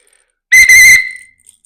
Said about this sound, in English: It sounds like, the sports whistle that your gym teacher blew at you when you were in school